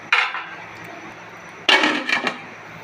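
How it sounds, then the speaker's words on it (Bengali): Two clanking metallic bursts as a lid is set onto a cooking pot, the first single and brief, the second a rattling clatter that settles over about a second; fish and green banana are cooking inside. "আমি এখন ঢেকে ঢেকে দেব"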